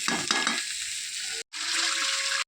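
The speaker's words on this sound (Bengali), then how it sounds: "এই যে জল দিয়ে দিলাম, এটা ফুটতে থাকুক" Water hits hot frying spices in a pan for a Bengali fish curry, a loud burst of sizzling that settles into steady bubbling hiss, broken by one brief gap.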